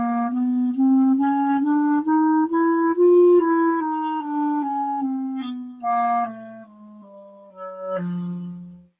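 Solo clarinet plays a one-octave chromatic scale in steady eighth notes, a smooth run of close, clear tones stepping upward and back down, played nearby with no talking.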